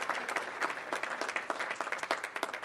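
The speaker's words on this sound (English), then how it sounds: "get a big round of applause for these judges for the work that they put in on this" An audience applauds the judges at an elevator pitch competition and award presentation. The clapping is dense and steady and carries on for the whole stretch, with no talk over it.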